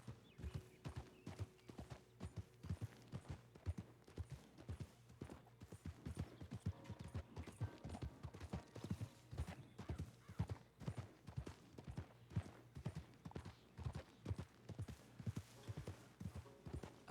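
Jax the horse trots in the RedM video game, its hooves beating a steady, quick clip-clop. The sound is faint and even, heard alone and without a break for about seventeen seconds.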